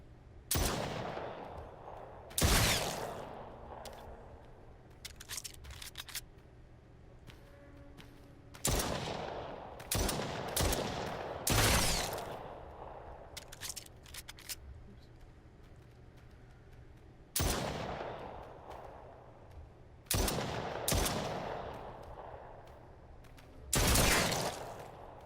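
Gunfire in the VR game Brookhaven Experiment: loud, sharp single shots ring out in irregular bursts, each followed by a short decaying echo, over a low background hum with no talking.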